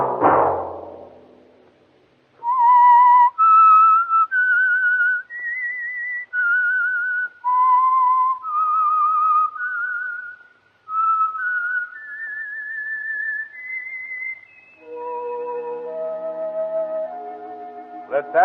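A clear, melodic whistled tune, loud and close, with sustained pitched notes rising and falling in phrases, ending in a lower, wavering passage.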